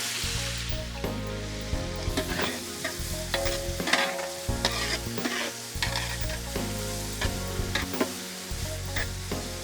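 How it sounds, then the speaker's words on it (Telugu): Finely chopped onions hit hot oil already crackling with cinnamon, cloves, cardamom and cumin for chicken Patiala, a lively close sizzle broken by repeated bursts of stirring and scraping, with no one talking. "వెంటనే దీంట్లోనే మనం సన్నగా తరిగిన ఉల్లిపాయ ముక్కలు యాడ్ చేద్దాం."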